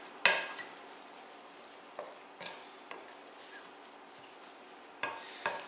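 Salt being stirred into soaked bulgur wheat for a zucchini mint tabbouleh, heard as a few soft, scattered scrapes and taps of a utensil against a bowl, faint and spaced apart with no talking.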